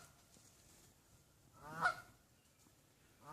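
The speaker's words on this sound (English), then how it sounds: "But there's a goose out here. You can probably hear him." A goose on an island honks outdoors, a single loud, nasal call rising out of quiet background, with the start of another honk at the very end.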